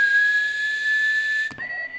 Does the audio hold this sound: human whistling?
yes